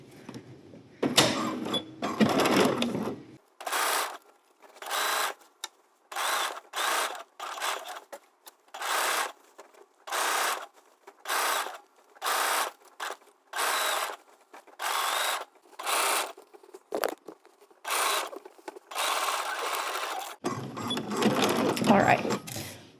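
Flatbed sewing machine stitching a circular underarm seam, running in short rapid bursts separated by brief pauses, close and clear, with a person talking before and after the stitching.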